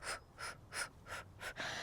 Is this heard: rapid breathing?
yes